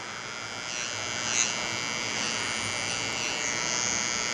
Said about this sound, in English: You can kind of turn your clippers and just, your trimmer, and just hover over these straggly hairs that we will have